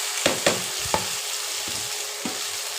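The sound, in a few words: frying lentil dumplings (bori) and potatoes in oil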